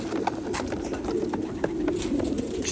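Pigeons cooing at a pigeon auction, soft repeated coos over a steady murmur of room noise, several birds overlapping at moderate distance.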